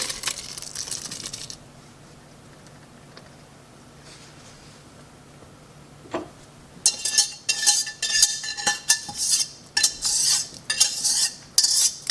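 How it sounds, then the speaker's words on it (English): Sautéed vegetables are stirred into a pot of clam chowder. After a quiet stretch, a spoon scrapes and clinks in a quick, repeated rhythm of loud, close strokes. "stir those in"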